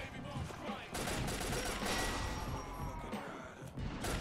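Dense bursts of gunfire in the shooter game 50 Cent: Blood on the Sand, rapid overlapping shots and impacts in a continuous loud barrage with game noise throughout.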